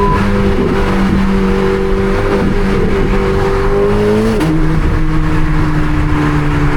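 A 1064 hp Chevrolet Corvette C8 ZR1 on a night drive through downtown Chicago, its engine loud and close as it revs hard, shifts up with a sharp break in pitch, then pulls again with a deep roaring exhaust.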